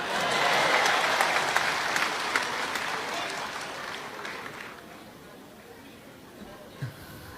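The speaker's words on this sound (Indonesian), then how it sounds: "Boleh tepuk tangan?" An audience at a public speech on religion bursts into applause, strong clapping mixed with crowd chatter that swells early, then tapers off into murmuring voices.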